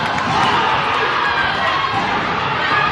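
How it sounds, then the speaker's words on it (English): A home crowd at a girls' basketball tournament game cheers and shouts loudly and steadily after a made layup, with a dense, continuous roar of many voices. "Now this Lincoln crowd getting into it."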